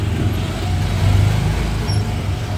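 Small Autopia ride car driving along the track at Disneyland: a continuous low engine drone and rumble close by, steady throughout with no talking.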